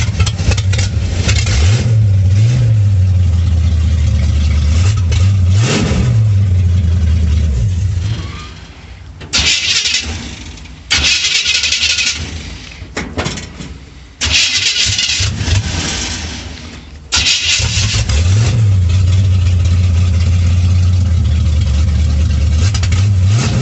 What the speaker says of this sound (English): It starts real easy. Oh, I don't think you've heard it start, but we'll see. The throttle's a little high.